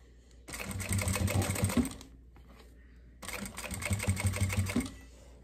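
A home sewing machine stitches fabric for a pouch with a front pocket, running in two steady bursts of rapid mechanical whirring separated by a short quiet pause, fairly close and alone with no talk.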